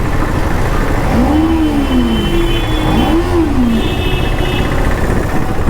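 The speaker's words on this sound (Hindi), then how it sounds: "बवाल आवाज कर रहा है भाई नींजा अपना सुरंग में" A Kawasaki Ninja 300 motorcycle engine revs hard twice in quick succession over a steady loud rumble, rising and falling in pitch, echoing inside a tunnel.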